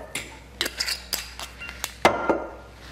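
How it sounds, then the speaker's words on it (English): A spoon stirs a boozy hot chocolate spiked with Bailey's, giving a scattered series of light metallic clinks and taps against the mug, sparse and close in a quiet kitchen. "Another little stir to combine"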